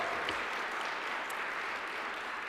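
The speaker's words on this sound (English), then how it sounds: "Will I get applause for that line? I think I heard one" An audience claps steadily at the Worcester Business Journal Outstanding Women in Business Awards 2021, a moderate, even patter of many hands that holds throughout without a break.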